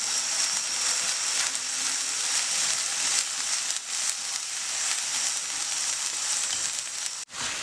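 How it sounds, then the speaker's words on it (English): Masala spice paste for a chana dal gravy frying on a low flame, a steady close hiss and sizzle with fine crackle that carries evenly throughout and dips briefly near the end. "This masala has to be fried on low flame at least for 10 to 15 minutes."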